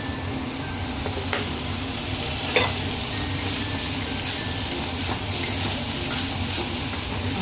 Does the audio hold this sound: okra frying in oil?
yes